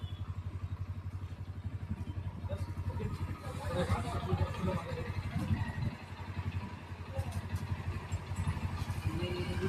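A Royal Enfield Bullet Classic motorcycle idles close by with a steady low thumping engine beat, while people chatter and call out around it.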